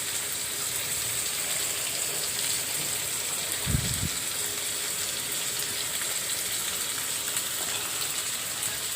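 Hilsa fish roe sizzles in a frying pan with a steady bright hiss throughout and a short low thump partway through, with no one speaking.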